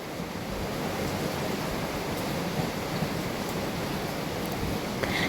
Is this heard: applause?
no